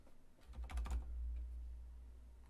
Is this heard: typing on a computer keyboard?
yes